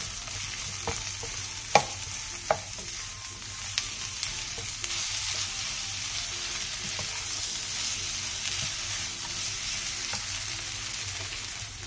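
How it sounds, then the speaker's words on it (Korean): Onion and minced garlic stir-fry over high heat in an oiled pan, giving a steady close sizzle throughout with scattered clicks and scrapes of stirring. "팬에 기름을 두른 뒤 양파와 다진 마늘 1스푼을 넣고 양파가 투명해질"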